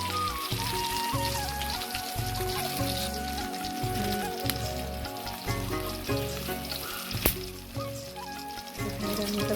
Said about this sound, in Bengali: ডাল টমেটো দিয়ে ডাল হবে এরকম রান্না বসিয়ে দিয়েছি আমি